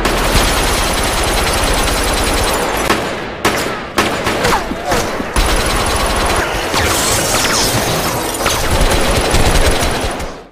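Rapid bursts of gunfire crack and rattle almost continuously, loud and close, with sharp shots and brief pauses in a chaotic exchange, from the film A Bittersweet Life.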